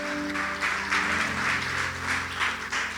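A church congregation claps in praise during a service, with rhythmic bursts of applause rising and falling over a sustained musical tone underneath.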